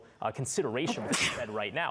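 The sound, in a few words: sneeze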